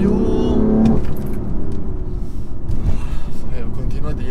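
A BMW car accelerates through a pair of curves, its engine rising and surging steadily up close, with a faint metallic jingle early on.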